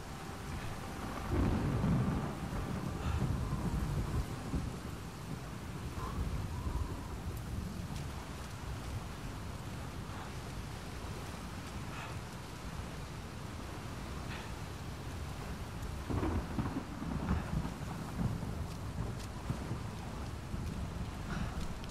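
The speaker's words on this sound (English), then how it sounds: "It's a storm. It's nighttime." A nighttime thunderstorm in the video game Uncharted 4, set in Africa: continuous heavy rain hisses over deep rolling thunder that booms up twice, once early and once later, with no speech.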